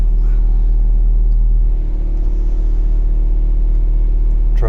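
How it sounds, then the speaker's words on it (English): An old truck, recently repaired with freshly sealed piston rings, idles nearby with a steady, loud low rumble and a deep engine hum, dipping slightly midway. "Truck's running good."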